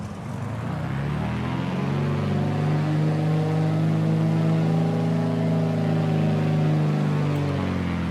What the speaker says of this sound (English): if I go on the external view now and rev the thing up,